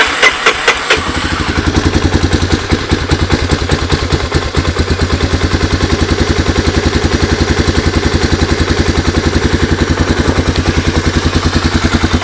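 A 1985 Honda ATC 250SX three-wheeler engine is started with the choke on, catching after a few turns and then settling into a loud, close, steady single-cylinder idle with a fast, even clatter.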